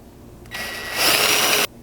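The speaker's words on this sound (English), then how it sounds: "You may have to hold that out of the way while you drill through this frame." A power drill bores through a truck frame during a front bumper install on a GX 460, whirring up for just over a second, rising in pitch and then cutting off abruptly.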